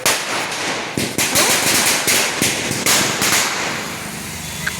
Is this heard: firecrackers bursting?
yes